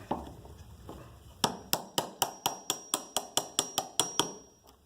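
A hand chisel is struck repeatedly to take small chunks out of wood, giving about a dozen crisp, evenly paced knocks, close and fairly loud, after a few softer taps.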